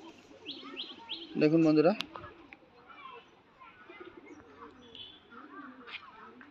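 Pet pigeons coo softly at close range while someone talks over them, with one brief, louder warbling call rising out of the chatter.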